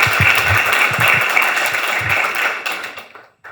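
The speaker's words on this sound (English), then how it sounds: "Round of applause." An audience claps loudly after a pitch at the Tech Beach hackathon. The applause is steady and dense, then thins out and stops near the end.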